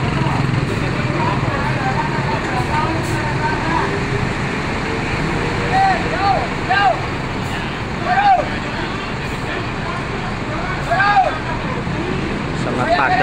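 Busy Mandiraja bus terminal with buses idling and moving among a crowd, a steady loud traffic rumble and engine drone throughout, with scattered voices and a few brief horn-like tones rising over the din.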